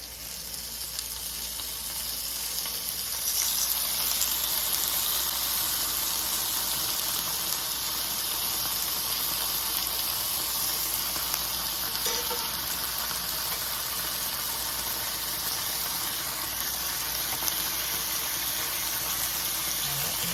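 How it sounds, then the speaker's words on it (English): Steady crackling sizzle of bacon frying in a hot pan, continuous and fairly close, with no talking. "I'm just gonna start off with the frying of the bacon"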